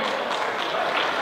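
Applause from an audience at a French gathering of Saint-Laurent owners, a dense steady patter of clapping that fills the short moment with no voices on top.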